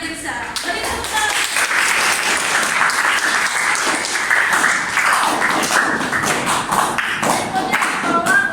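A classroom of high school students gives a student group a sustained round of clapping, loud, dense, and close, with occasional thumps and taps mixed in.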